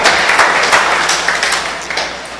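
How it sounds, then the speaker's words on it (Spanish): A church congregation applauds during a worship service: steady, dense clapping from many hands that holds throughout and fades slightly toward the end. "Dale ese aplauso al Señor"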